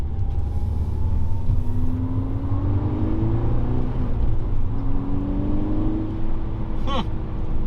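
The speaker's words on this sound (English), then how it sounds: "we'll go out for a test drive. We're gonna go onto the highway here really quick." A Volkswagen Golf R fitted with a throttle body pipe cruising on a highway, heard from inside as a steady loud engine drone with road roar and a rising pitch as it accelerates.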